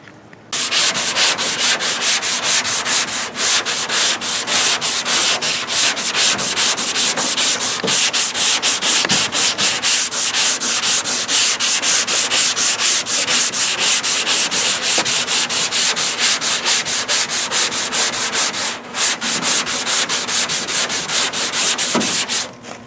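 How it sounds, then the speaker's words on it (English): Continuous, loud abrasive rubbing of 80-grit sandpaper across body filler, steady back-and-forth strokes with no pauses and no voices. "I was using 80 grit, not 36. Anyway, I've been sanding for a while."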